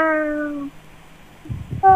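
A cat meowing, a close, clear harmonic meow that fades out, then after a short pause some soft rustling and the start of another meow.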